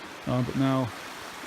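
A small crossing on the Little Missouri River gives a steady, soft rush of flowing water. A voice speaks briefly over it near the start.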